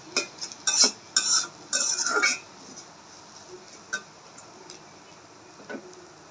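A spoon scrapes and clinks against a bowl in a few quick bursts while chaat masala is mixed into a snack, followed by sparse, fainter single taps at close range.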